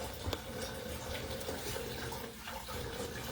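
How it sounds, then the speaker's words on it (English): Water runs steadily into a canning pot holding jars of tomatoes, a continuous splashing pour at moderate level, close by, with no talking. "So I'm going to add some more water in here"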